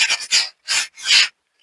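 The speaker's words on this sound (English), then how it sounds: "I just run this on these sanding pads." A plastic model kit part for a harbour walls build is rubbed across sanding pads to take off moulding nubs, giving four close, rasping strokes with short pauses between them.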